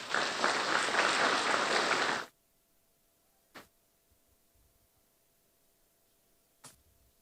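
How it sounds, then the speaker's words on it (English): Audience applause at a presidential retreat for ministers designate in Nigeria: loud, full clapping for about two seconds that cuts off abruptly, followed by near silence broken by two sharp isolated clicks. "And we give him another round of applause."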